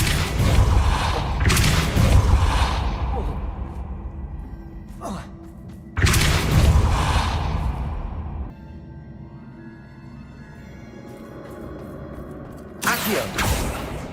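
Depulso repelling spells cast in the video game Hogwarts Legacy, heard as heavy booming whooshes that hit hard and fade over a few seconds, repeated three times at wide intervals with smaller mechanical clunks between.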